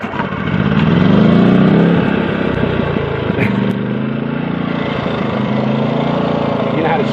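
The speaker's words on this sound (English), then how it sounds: "Let's just see if my wife can start this generator on her own." A GENKINS inverter generator pull-started and then running, a mid-pitched engine drone that rises early and settles into a steady hum, with people talking nearby over it.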